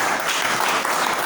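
A congregation at a worship night gives a short, dense burst of clapping. The applause is loud and steady, and no voices can be made out.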